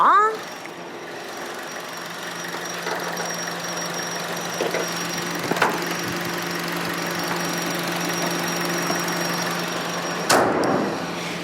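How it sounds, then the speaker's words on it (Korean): A Chevrolet Cruze turbo engine idles steadily up close in the engine bay, a constant low hum with a faint whine, broken by a couple of brief sharp clicks. "엔진 소음 외에 다른 소음이나 잣소음 안 들리는 거 확인 가능하시죠"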